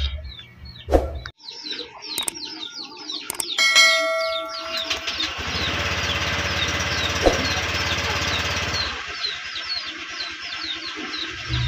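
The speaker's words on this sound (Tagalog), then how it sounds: "Iinitin natin ang makina" A Honda Click 125 V3 scooter engine runs steadily at idle, a continuous low drone, with chicks chirping and tweeting loudly over it throughout.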